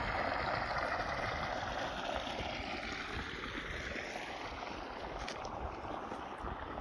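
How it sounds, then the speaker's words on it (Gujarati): Irrigation water runs from a motor pump into a farm field channel, a steady soft rushing and gurgling flow heard from close by at low volume, continuous throughout with no voices. "જો પાણી ચાલુ થઈ ગયું છે."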